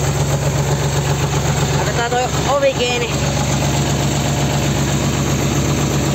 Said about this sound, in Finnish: traktori käyntiin